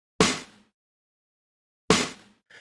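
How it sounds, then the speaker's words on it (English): A pop sample-pack snare is struck twice, each hit sharp, bright and clear with a short decaying tail, separated by about a second and a half of silence, and a third hit begins right at the end. "Here is a snare sample that I picked. It's just from our pop pack, and it sounds like this."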